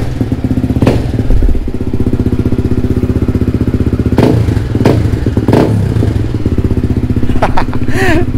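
A SYM VF3i motorcycle fitted with a CJ Ipoh exhaust idles loudly and close, a steady throbbing rumble with a few clattering knocks and brief blips.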